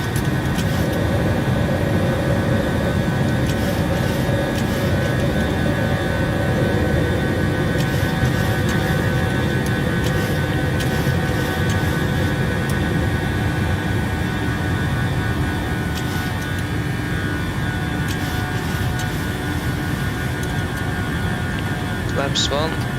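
A jet airliner in Microsoft Flight Simulator 2020 climbs after takeoff from Oslo with a loud, constant engine roar and steady tonal whine filling the whole stretch, cockpit callouts spoken faintly beneath it.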